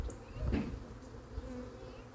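Honey bees from a wild swarm buzz around the hive: a brief, faint, close buzzing that swells once and then settles into a low hum.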